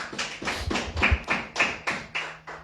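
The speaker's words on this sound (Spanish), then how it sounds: "Un fuerte aplauso al Señor." A church congregation claps for the Lord in a steady rhythm of about ten sharp, even claps in quick succession, close and fairly quiet, with no talking.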